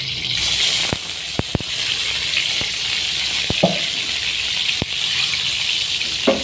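Hot oil sizzles and crackles steadily as salted squid fries, with sharp pops and spits scattered throughout.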